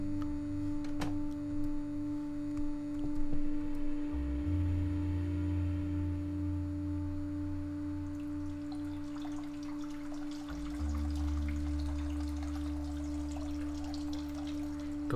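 A constant hissing wash of noise fills the scene, steady and unbroken, with low droning tones layered beneath it.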